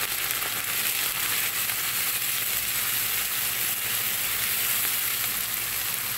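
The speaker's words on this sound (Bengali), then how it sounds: "মশলা দিয়ে এই আদা রসুনের সাথে ভালো করে ভেজে নেব" Spice paste with ginger and garlic fries in a pan for a Bengali hilsa fish head and bottle gourd greens curry, giving a steady, close hiss and sizzle with faint crackles throughout, no voices.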